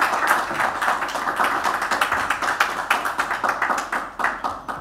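Applause from a seminar audience after a talk on social networks and older people in Chile, a steady patter of many hands clapping throughout, moderately loud and sustained with no voices over it.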